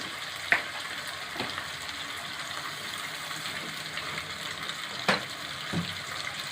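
Potatoes frying in a pan with water added give a steady, broad sizzle, broken by a few sharp crackles and spits, close and alone without talking.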